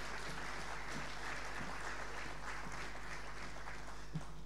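An audience applauds to welcome guests onto the stage at a tourism presentation in Alençon, a steady, even wash of many hands clapping at moderate distance that holds for the whole stretch.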